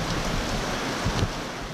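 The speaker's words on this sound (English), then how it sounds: "In Mong Kok, showers were heavy at times, brought by the rain bands associated with Yagi." Heavy rain shower from a typhoon rain band in Mong Kok, Hong Kong, a steady dense hiss of falling rain with a couple of brief louder gusts, no voices.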